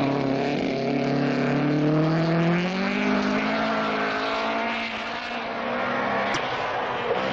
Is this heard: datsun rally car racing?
yes